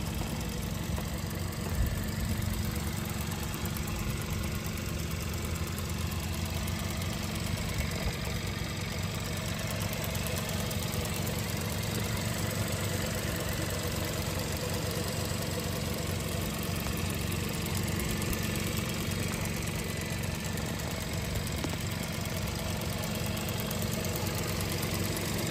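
A turbocharged 2020 Kia Forte GT engine idles steadily for a long stretch, a low continuous hum and rumble with a faint high whine, close up and without any talk.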